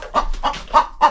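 A chicken clucks four times in an evenly spaced series of short, close, throaty calls, nobody speaking.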